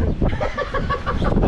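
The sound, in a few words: pigeon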